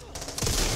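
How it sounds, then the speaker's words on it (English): A single sniper rifle shot rings out during co-op play in the zombie shooter Back 4 Blood, a sharp burst landing after a brief quieter lead-in, with faint voices around it. "Sniper rifle!"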